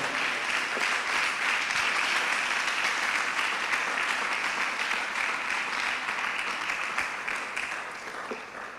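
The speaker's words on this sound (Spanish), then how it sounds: "Denle un aplauso al Señor esta noche" A church congregation applauds during an evening Spanish-language service, steady dense clapping held throughout and tapering slightly at the end.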